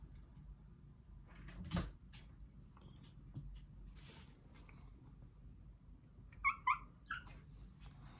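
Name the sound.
cat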